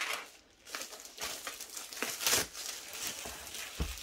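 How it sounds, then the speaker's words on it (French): Wrapping paper being pulled and torn away from a delivered package, opened through a small hole made with pliers, giving irregular crinkling rustles and tearing bursts up close, with no talking. "j'ai fait un petit trou avec une petite pince pour que je puisse au moins vous enlever le papier"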